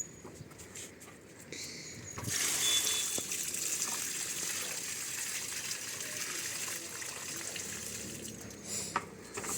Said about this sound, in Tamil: மறுநடவு பண்ணதுக்கப்புறம் கண்டிப்பாக உயிர் நீர் ஊற்றணும்